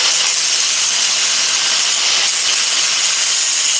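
A metal workpiece being scraped to take off its sharp edges, giving a continuous close, harsh hissing rasp that stays loud and even throughout.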